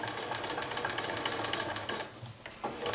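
A sewing machine stitches along the seam joining a trouser waistband to the body, a rapid rhythmic mechanical chatter running steadily before a brief pause and a restart.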